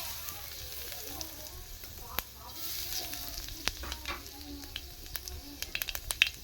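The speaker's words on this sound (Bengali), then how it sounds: "একটু গোটা জিরে দিয়ে দিচ্ছি" Whole cumin seeds crackle and sizzle in hot oil in a village kitchen, a steady low frying hiss with scattered sharp pops that quicken toward the end, no voices.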